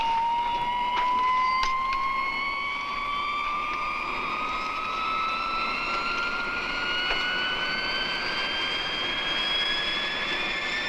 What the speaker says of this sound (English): A low-wing, dual-control jet trainer, powered by 2 turbojet engines.